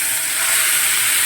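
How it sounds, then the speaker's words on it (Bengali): Fish sizzles steadily in hot oil for a Bengali fish curry, giving a loud, continuous broadband crackle and hiss close by, with no talk over it. "দেখো মাছটা ভেজে নিচ্ছি"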